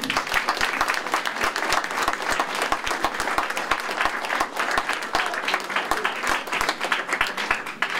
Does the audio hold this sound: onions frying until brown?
no